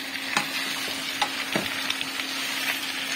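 Chicken tinola being stirred in a pot: soft scraping and clinking of a utensil against the pot at irregular intervals over a steady simmering hiss and a low hum.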